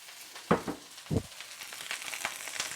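Cabbage tipped into a hot pan, opening with two loud crackling bursts as it goes in and settling into a softer, continuous frying sizzle, close and with no one talking.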